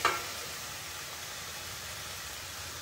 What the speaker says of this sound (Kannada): ಇವಾಗ ಇದಕ್ಕೆ ನಾನು ಅವಾಗಲೇ ಹೆಚ್ಕೊಂಡಂತ ಕೋಸನ್ನ ಸೇರಿಸ್ತಾ ಇದ್ದೀನಿ